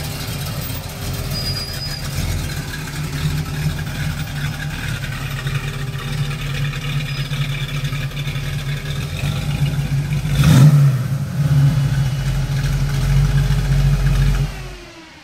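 A returning Ford Mustang's engine rumbles steadily through a work session, its low throttle swelling briefly to a louder rev midway before settling back to a constant drone, with no talk over it.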